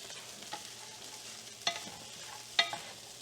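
Egg fried rice stirred and folded in a pan, giving soft scraping and a quiet steady sizzle, punctuated by two sharper clinks of the utensil against the pan, with no voices.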